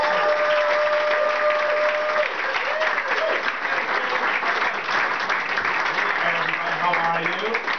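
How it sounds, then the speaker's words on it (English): A comedy club audience at Beantown Comedy Vault applauds as comedian Jeff Norwood is brought on, a loud continuous wash of clapping with cheers and a voice talking over it. "Let's give him a round of applause for Jeffrey Norwood."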